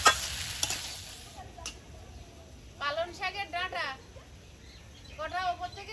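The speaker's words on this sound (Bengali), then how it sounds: "এবারে বেগুন আর সিমটা দিয়ে দেবো সব সবজি মশলার সঙ্গে ভালোভাবে কষিয়ে নেবো" Brinjal and beans stir-fry with spices for a dried loitta fish curry, with a close sizzle and stirring scrapes loudest at the start, then fading under a voice talking in short bursts.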